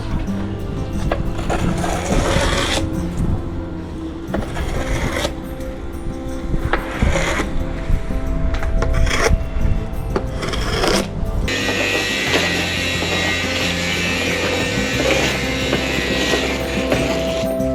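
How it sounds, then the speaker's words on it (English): Antifoul paint is scraped off a boat hull with hand scrapers during a tropical haulout, a dense continuous rasping and scratching with repeated strokes, close and loud, and no talk. "How's it going with the scraping?"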